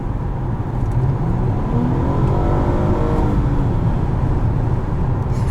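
A 2017 Nissan Maxima SV accelerates hard, heard from inside the cabin as a steady, loud engine drone with rising revs through the middle and road rumble underneath.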